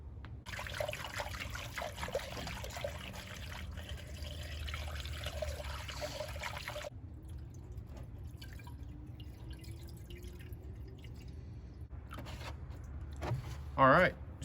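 Distilled water trickles and drips steadily from a gallon jug into a tractor's coolant system, a thin continuous pour with faint handling noises and a brief clatter near the end.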